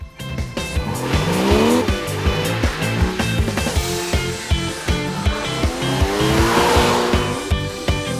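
A 2013 Porsche Cayman drives hard, its engine revving up and down through gear changes with a loud, close growl and occasional tire noise.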